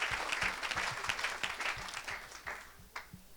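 Congregation at a church service applauding and cheering, a dense wash of clapping that swells and fades, with low voices underneath.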